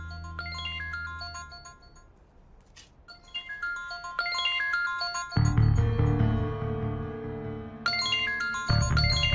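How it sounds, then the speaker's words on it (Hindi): A mobile phone rings with a melodic electronic ringtone, bright chiming tones repeating in phrases, joined midway by louder background music that then fades back to the ringtone. "बेबी मेरा फोन बज रहा है"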